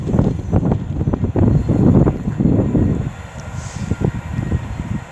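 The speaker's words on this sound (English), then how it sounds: "Only slightly windy." Gusty wind buffets the microphone at a railway station platform, a loud, rough low rumble that surges in uneven bursts for about three seconds, then eases into quieter, choppier puffs with no voices.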